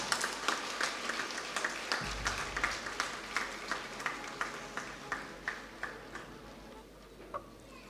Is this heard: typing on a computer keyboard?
no